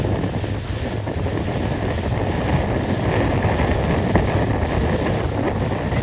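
A 29er racing dinghy rushes through water, with a steady wash of spray and waves and wind buffeting the microphone throughout.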